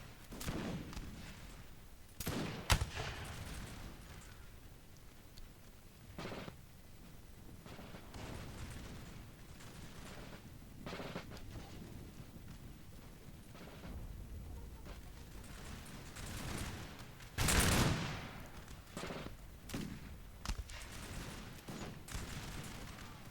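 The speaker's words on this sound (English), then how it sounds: "my ally has put his cannons closer so he can use the canister shot" Cannons firing canister shot on a Napoleonic battlefield in Napoleon: Total War, sending scattered booming blasts at irregular intervals over a continuous rumble of distant battle, one shot standing out louder near the end.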